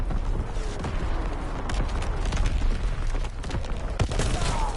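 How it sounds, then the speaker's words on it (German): Continuous rumbling battle noise with heavy booms and crackling blasts, dense and loud throughout, like artillery shells exploding in Call of Duty: WWII. "Incoming enemy artillery."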